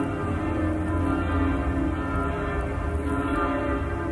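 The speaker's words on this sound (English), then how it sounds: "We can hear in the background the bells of the two monumental towers which stand at the front of the cathedral." Bells ringing from the two monumental front towers of the Rococo cathedral in St. Gallen, Switzerland, a dense, steady wash of overlapping tolling that sounds loud and continuous throughout, with no speech.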